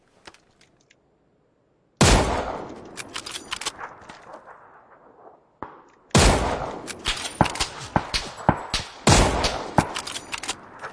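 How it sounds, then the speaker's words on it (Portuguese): Rapid bursts of video game gunfire crack out in three loud clusters after a quiet opening, each volley a dense run of sharp shots with rattling tails. "Três tiros pro cara cair, mano."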